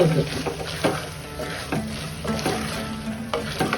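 Vegetable kurma being stirred gently in a pan after chili powder goes in, with repeated scraping strokes over a steady low sizzle, close and moderately loud with no talking.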